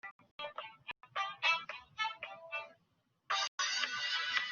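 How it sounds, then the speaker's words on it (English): A mobile phone rings with a melodic ringtone, playing repeated bright tonal phrases with short gaps, fairly loud and alone with no voices. "That's my phone ringing"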